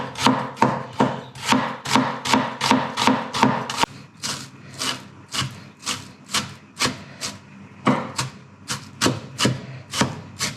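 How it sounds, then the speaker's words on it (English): Onions chopped finely with a knife on a cutting board for char siu bao filling, a close, steady run of rhythmic thuds, faster at first, then slightly slower and more spaced. "Okay, let's chop our onions. We need finely chopped onions here."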